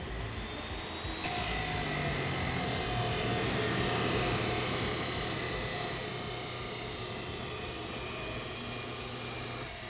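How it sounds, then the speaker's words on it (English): Power cutting tool trimming excess metal from a gas tank hoop on a fuel cell frame, a loud continuous high-pitched whine that swells in the middle and then eases slightly. "What we'll be doing now is cutting off the excess from the gas tank hoop here."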